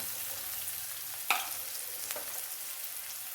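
Onions sauté in a pan for an egg chukka dish, giving a soft, steady sizzle with a brief scrape or clink of stirring partway through.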